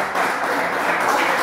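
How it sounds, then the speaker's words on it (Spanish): Audience applause for a young performer at a music talent show in Valencia, Venezuela, a brief, even wash of clapping from the crowd, fairly loud and continuous, with no talking. "Aplausos para él, por favor."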